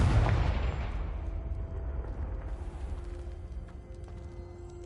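Confringo spell explodes in the video game Hogwarts Legacy: one sharp blast right at the start, then a rumbling tail that slowly fades at moderate loudness.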